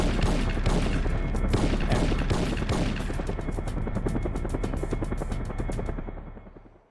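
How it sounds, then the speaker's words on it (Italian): Helicopter rotor thumping steadily in the Syphon Filter 2 video game, mixed with rapid bursts like gunfire, loud and continuous before fading out at the end. "E buttarlo verso l'elica dell'elicottero."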